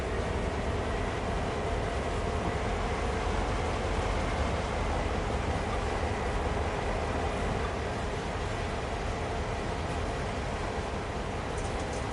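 An Amtrak train on the NEC line in the railway game Train Sim World rumbles past, a loud, continuous, broadband roar of wheels and rails holding steady throughout without speech.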